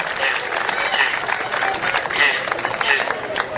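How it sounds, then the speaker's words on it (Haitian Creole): An audience claps at an honorary tribute ceremony, a steady crowd applause of many hands running throughout, fairly close and full, with voices mixed in. "Oui, on applaudit."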